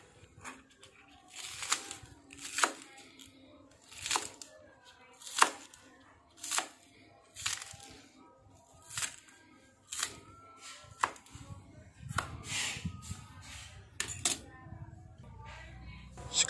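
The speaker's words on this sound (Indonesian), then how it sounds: "Sekarang saya iris daun pandannya." A knife slices pandan leaves on a cutting board in a kitchen, a series of sharp, evenly spaced cuts roughly every second, close and crisp, with some soft handling noise later.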